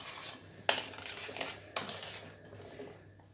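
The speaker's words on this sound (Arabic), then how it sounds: "هقلب كل المكونات مع بعض بالطريقه ديت." A utensil scrapes and clinks against a metal pot in a few sharp strokes while stirring meatball and potato ingredients with oil, close up, with soft scraping between them and no voices.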